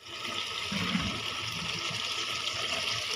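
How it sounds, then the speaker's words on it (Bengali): Water poured into a fish curry with eggplant and flat beans, a continuous gushing pour heard close and fairly soft. "তো তরকারিটার ভিতরে এখন পানি দিই"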